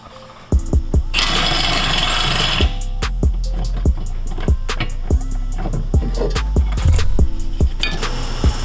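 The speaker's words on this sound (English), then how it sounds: "you can go ahead and grab an impact or a big wrench. It's a 21mm for the shock bolt" An impact wrench rattles against a 21mm shock bolt on a Mk6 VW Golf GTI during a coilover install: a loud, near buzzing burst, then a run of sharp metallic clicks and short bursts.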